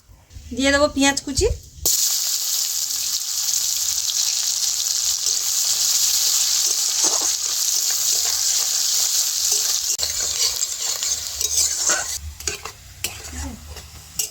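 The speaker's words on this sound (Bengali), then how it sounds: "এইবারে দিয়ে দেবো পেঁয়াজ কুচি" Chopped onion hits hot oil in a wok with a loud, sustained sizzle, the close frying hiss running steadily, broken by occasional stirring clinks and scrapes, after a short moment of talk at the start.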